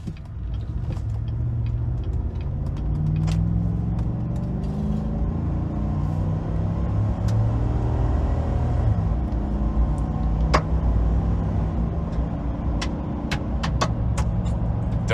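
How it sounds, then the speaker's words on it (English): A 2019 Chevrolet Silverado on 35-inch tires drives over gravel with a steady, loud road rumble and engine drone, while sharp ticks and pops of rocks flung from the tread scatter throughout. "Don't know if y'all can hear all those rocks just flying out."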